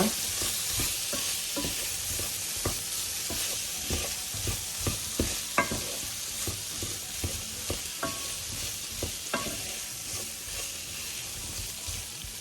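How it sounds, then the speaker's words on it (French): Chicken curry with tomatoes being stirred in a hot pan, a steady sizzle of frying under repeated scraping strokes of a spoon, close and fairly quiet with no talking. "Et maintenant, j'ajoute les tomates. Je mélange bien."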